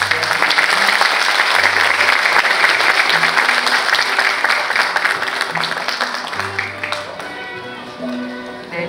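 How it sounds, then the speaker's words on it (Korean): Dense, sustained applause fills a hall at a Pusan National University anniversary ceremony during an alumni award presentation. It is loud and continuous for about seven seconds, then begins to thin out with low music or voices underneath. "큰 박수로 축하해 주십시오."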